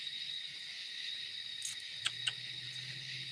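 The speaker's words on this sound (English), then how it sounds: "Listen to the crickets." Crickets chirp at night in a steady, dense high trill that runs unbroken throughout, joined by a few brief sharp clicks and a low hum near the end, with no voices.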